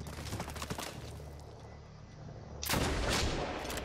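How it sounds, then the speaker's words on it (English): Weapons fire from the video game Medal of Honor Warfighter comes in a few sharp blasts that are loud and booming, with a sustained rumble after the last shot. "I'm just shooting, and if I miss, I'm just gonna, shoot again."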